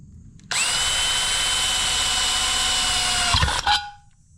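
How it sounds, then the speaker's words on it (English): A power drill with a dull bit whines steadily for about three seconds drilling a hole in metal, its pitch dropping slightly near the end before it stops with a brief clatter. "Of course, I've used the dullest drill bit I own."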